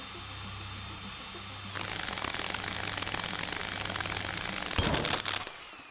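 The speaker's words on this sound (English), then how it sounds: "Drill press." A drill press in the Stories Untold video game spins up from a low hum into a continuous grinding whine. It builds in intensity and ends in a sharp, harsh burst before cutting out, with no one speaking.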